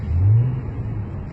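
A 1993 Mazda MX-3 GS with its V6 revs up and pulls away, a close, loud surge of engine noise that swells briefly and then settles into a steady drone, with no voices.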